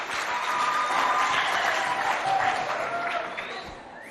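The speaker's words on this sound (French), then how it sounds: "On l'applaudit bien fort." Spectators at a school competition in Moundou applaud a jury member, a moderate wash of clapping with faint whistles or voices mixed in, fading toward the end.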